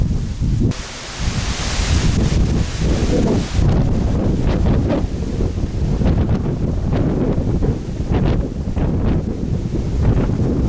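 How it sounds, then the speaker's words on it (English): Strong wind blowing outdoors on a trip in West Virginia, a loud steady roar buffeting the microphone, with gusty rumble and rustling throughout and no talking. "The wind is actually starting whipping up again."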